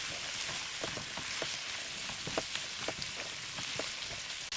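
Mixed vegetables with chickpeas and cabbage fry in a pan with a steady, dense sizzle and crackle, broken by light scraping stirs near the mic and no talk.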